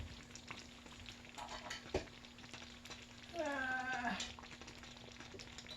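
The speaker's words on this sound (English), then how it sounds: "we're just gonna spread them onions out and let them simmer with the gravy" Liver and onions simmering in gravy in a pan give a steady soft sizzle and bubbling, with a few utensil scrapes and a brief louder stir partway through, fairly close.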